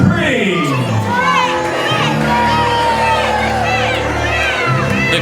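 Unhappy crowd at a live WRESTLEFORCE wrestling show in Hullbridge reacting to cheating in a tag match, a loud continuous mass of shouts, whoops and jeers, with children's voices prominent.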